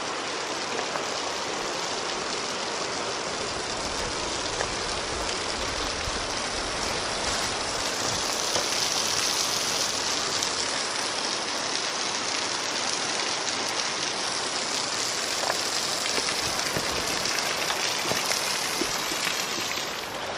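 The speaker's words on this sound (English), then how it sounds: "along the Ozark Highland Trail, there's a lot of these waterfalls" A waterfall along the Ozark Highlands Trail pours with a steady, broadband rushing hiss, close and loud, unbroken for the full stretch with no voices over it.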